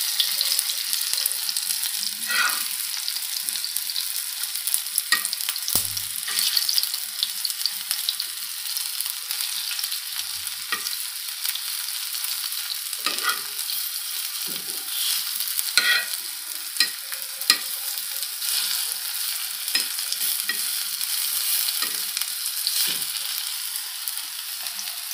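Alu vadi pieces shallow-frying in oil in a pan while being turned over, a continuous close sizzle with occasional scrapes and soft taps of the spatula, no voices present.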